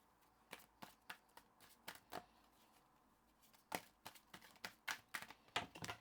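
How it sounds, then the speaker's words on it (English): Tarot cards being shuffled and cut by hand, giving a run of faint, irregular soft taps and riffles with short pauses between bursts, alone with no talking. "I'm really having trouble shuffling"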